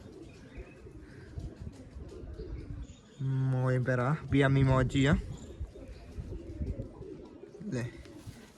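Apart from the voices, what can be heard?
pigeons cooing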